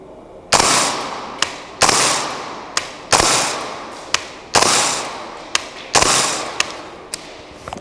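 A Radian Model 1 gas blowback rifle fires five sharp, loud shots at a steady pace, each crack followed by a lighter mechanical click of the action cycling.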